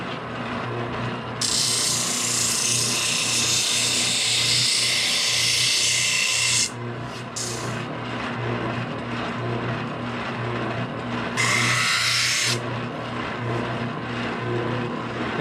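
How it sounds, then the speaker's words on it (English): A spindle sander smooths a wooden longbow limb laid flat, its loud broadband hiss rising in long sustained passes and cutting off between them over a steady motor drone, with no talk. "I'll take it over to spindle sander and lay it flat"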